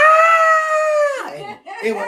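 A man imitates a piercing banshee scream, a loud sustained high-pitched wail that breaks off into a wavering drop, followed by a brief vocal sound.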